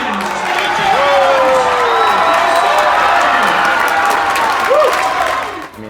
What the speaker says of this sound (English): All right, let's give these guys a standing ovation.